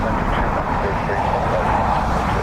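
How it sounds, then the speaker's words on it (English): A Lufthansa Airbus A321neo arriving from Munich lands at Dublin Airport in a crosswind, its engines making a loud, broad, steady roar for the whole stretch, with talk over it. "Lufthansa on a 321 Neo coming from Munich."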